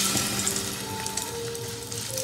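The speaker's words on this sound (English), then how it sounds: "We can start frying the kebabs." Tuna fish kebabs dipped in egg white frying in a pot, with a steady, fairly loud sizzle and bubbling that continues without a break.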